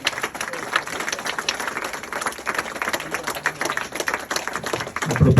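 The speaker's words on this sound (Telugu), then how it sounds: "అతను గట్టిగా చప్పట్లు కొడుతూ దేవుని స్తుతించుదాం" A congregation claps loudly and steadily at a Christmas celebration, a dense run of overlapping hand claps filling the space without pause, with a low thump near the end.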